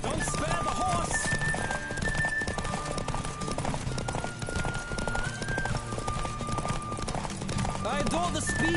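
Rapid hoofbeats of a galloping horse in The Witcher 3 on PS5, rhythmic clip-clop drumming with occasional whinnies over game music, while people talk throughout.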